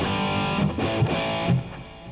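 Electric guitar played through a software-simulated DOD distortion pedal, a short burst of fuzzy distorted chords with a few picked accents, fairly loud and without talking.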